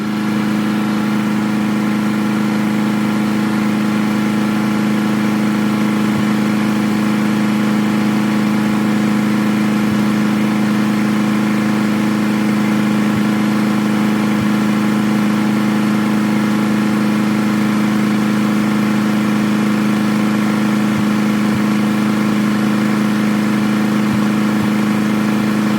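A tractor engine idles steadily at a constant pitch while its carburetor is adjusted, a loud, continuous low drone running unbroken throughout with no voices.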